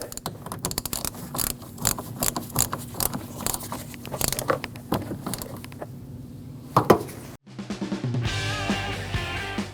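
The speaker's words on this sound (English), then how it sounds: "and tighten that 10mm bolt." A ratchet tightening a 10mm bolt on a 2014-2023 Jeep Cherokee, giving rapid, crisp mechanical clicks in repeated strokes close up, with a few knocks near the end before a short burst of music cuts in.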